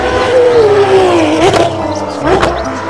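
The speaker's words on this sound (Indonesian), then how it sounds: "kalau ini mobil balap Formula" Engine noise from a toy Formula One race car, a continuous revving drone with rising and falling pitch, loud and close, with a couple of brief sharper bursts.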